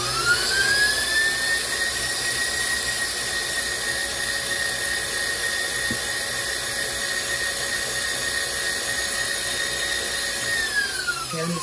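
An electric hand mixer whirs steadily through no-bake lemon cheesecake filling, a constant high motor whine holding pitch for several seconds before winding down at the end, close and alone.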